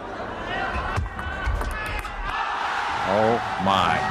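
A Chinese crowd at a table tennis match, the 2001 ITTF Grand Finals between Waldner and Ma Lin, cheers and roars steadily after a comeback, with excited commentary and shouts over the noise.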